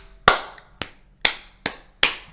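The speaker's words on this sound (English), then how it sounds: "Sorry for the clapping." Five sharp hand claps, evenly spaced, close and loud, sounding alone in a quiet room.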